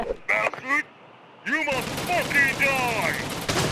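Rapid video game gunfire crackles in bursts while people talk excitedly over it nearby.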